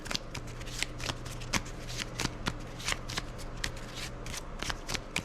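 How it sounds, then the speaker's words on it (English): A deck of game cards is shuffled by hand in a tabletop war game, a quiet run of crisp riffling snaps and soft slaps repeating steadily with no talking. "we shuffle it in the deck"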